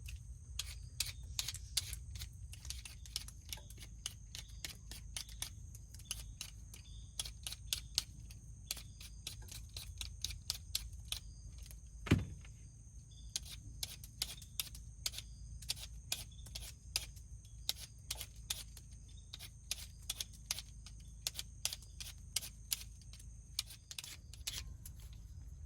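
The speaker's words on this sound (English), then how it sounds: "But I like to peel my potatoes first." Potatoes being peeled by hand at a deer camp, giving a steady run of short, crisp scraping strokes close by, repeated quickly for the whole stretch with a low background hum and no talking.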